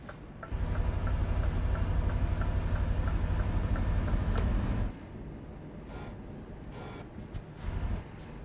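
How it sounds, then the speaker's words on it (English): Train passing a station in the Euro Truck Simulator 2 video game, a loud, steady rumble with rhythmic clicks of wheels over track joints that cuts off abruptly after about five seconds, leaving quieter road noise. "Ooh, trains. Ooh, that's a nice train station as well."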